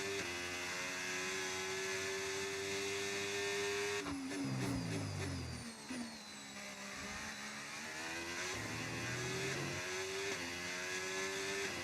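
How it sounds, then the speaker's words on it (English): A Porsche Formula 1 car engine in the F1 25 racing game: a high, whining engine note that climbs steadily and drops sharply at gear changes, with repeated revving, heard alone without voices. "Tell me if you can hear the car."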